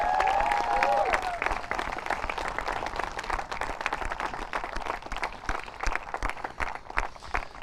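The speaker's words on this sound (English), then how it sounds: "I would love a special round of applause for our team from Nepal as well" An awards-ceremony audience applauds the women's team from Nepal, with steady scattered clapping that rises and thins over several seconds, and a brief sung or whistled tone at the very start.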